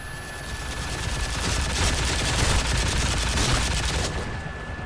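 An M60 machine gun in Call of Duty Modern Warfare 3 fires in a long, rapid, sustained burst, loud and dense, swelling in the middle before cutting off near the end.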